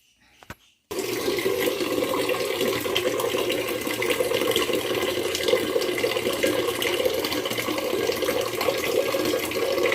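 Water from a kitchen tap gushes steadily into a pot being filled to cook rice and dalma, starting abruptly after a brief clatter and then running loud and close without a break.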